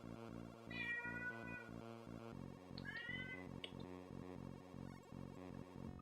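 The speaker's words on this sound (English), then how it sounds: "If you hear something, it's the cat." A cat meows twice indoors, two short rising cries a couple of seconds apart, heard faintly over a steady rhythmic background of game music.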